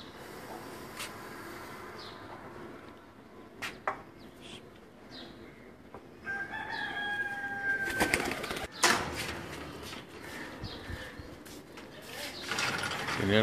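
Racing pigeons on a rooftop in Gujrat district during a pigeon-flying cup, with scattered faint coos, wing flutters and cage rattles amid outdoor hiss, plus a clear whistle-like tone and rising bustle in the latter half.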